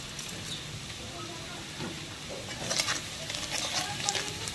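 Onions fry with a little sugar for a katla kalia fish curry, giving a faint, low sizzle with occasional soft stirring that grows slightly busier toward the end.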